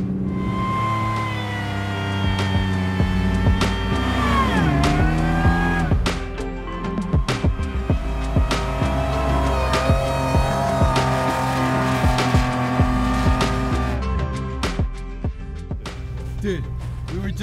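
An off-road vehicle stuck on a snowy winter trail revs its engine hard, the pitch repeatedly rising and falling in long loud surges, with voices heard alongside.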